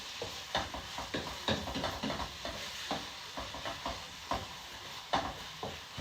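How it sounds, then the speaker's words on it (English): Onions sweating in a pan for stuffed peppers, giving a steady soft sizzle broken by repeated scraping stir strokes at a close, moderate level with no talking. "That's what happens when you sweat onions."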